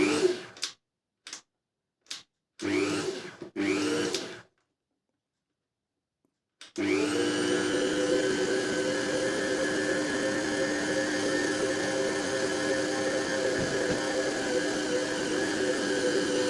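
A Kerch dough mixer switched on at its first speed, after a few clicks and brief knocks, settles into a steady, loud motor whine with a constant hum for about ten seconds.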